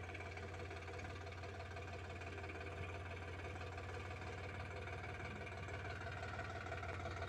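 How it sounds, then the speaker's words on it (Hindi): A Sonalika DI RX 35 tractor's diesel engine drones steadily with a low, knocking chug at an even, moderate distance, quiet and unchanging throughout, with no voices. "तो वो दोस्तों ट्रैक्टर आ रहा है, देख सकते हैं।"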